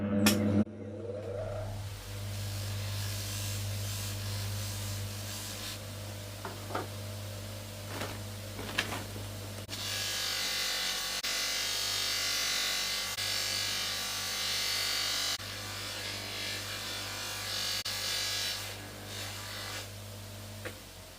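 A buffing wheel polishing copper during a restoration, running as a steady motorized whine with a continuous hiss that swells louder while the metal is pressed against the wheel, then eases off near the end.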